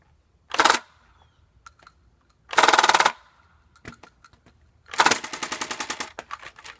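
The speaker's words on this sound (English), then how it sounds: "let's go for a 5 or 6 shot burst" A BOOMco Halo MA5 toy blaster fires darts in three loud bursts, with the third a rapid run of sharp mechanical shots spread over roughly two seconds.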